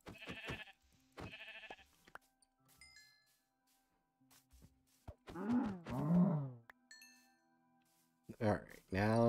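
Sheep bleating in Minecraft, a couple of wavering, nasal bleats in the middle of the stretch with more at the end, separated by quiet gaps holding faint game tones and someone talking.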